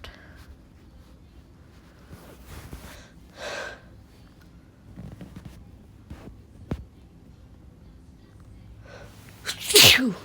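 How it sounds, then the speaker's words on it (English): One loud, sharp sneeze bursts out near the end, close to the listener, after a stretch of quiet room tone with a few faint breaths and small noises. "Sorry guys, I had to sneeze."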